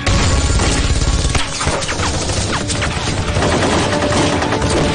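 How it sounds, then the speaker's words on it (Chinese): Intense gunfire from a night raid by guerrilla agents on Japanese troops in a kung fu action film: loud, dense, continuous volleys of shots mixed with crashing impacts throughout. "西京路方向传来激烈的枪声。"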